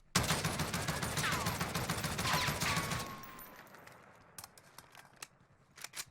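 Rapid bursts of Oden rifle fire in Warzone, a loud dense automatic volley for about three seconds, followed by a few scattered sharp clicks and short shots.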